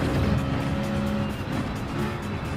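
In Gran Turismo 7, a car engine drones loud and close as the throttle is released, its pitch sagging slightly before settling into a steadier hum, with no voices.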